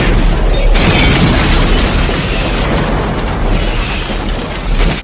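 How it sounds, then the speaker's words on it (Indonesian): A loud bomb blast in a film scene erupts, followed by a sustained roaring rumble and crackling debris that slowly fades. "Dan bom pun meledak."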